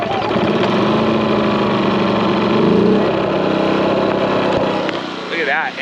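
A small engine, quieter than a two-stroke, runs close by with a loud, steady mid-pitched drone that rises and falls a little, and a voice can be heard briefly near the end.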